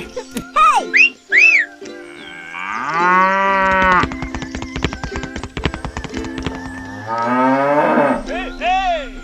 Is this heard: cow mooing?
yes